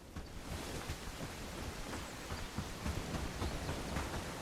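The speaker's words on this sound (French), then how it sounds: "Ah, il pleut." Steady rain falls in the medieval survival game Bellwright, a dense, even hiss with faint patters continuing throughout.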